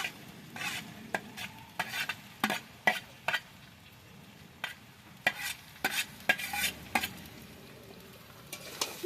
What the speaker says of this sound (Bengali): এবার ভালো করে এটাকে নাড়াতে হবে, মানে সব দিকে নাড়িয়ে মিশাতে হবে